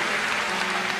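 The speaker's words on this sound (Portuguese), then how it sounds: "Quem acredita nisso, aplauda ao Senhor e tome o seu assento." A congregation at an evangelical worship service applauds the Lord, a brief burst of dense, continuous clapping from a large crowd filling the room without any speech on top.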